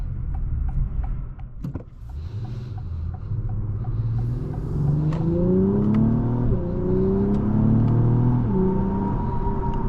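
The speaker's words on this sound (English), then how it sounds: "the TLX Type S just sounds really good, has a very enhanced exhaust note, and also it's the valved exhaust system" A 2025 Acura TLX Type-S with its valved sport exhaust pulls under acceleration from inside the cabin, a steady engine drone that climbs in pitch through the gears, near and continuous with no talking.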